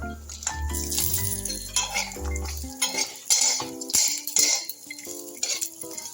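Cashew nuts are lightly roasted in ghee in a pan, with a spoon clattering and scraping against the metal in irregular bursts.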